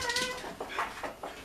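A cat scuffling with a dog, letting out faint, strained meows and yowls in short bursts against a noisy background, with no talking.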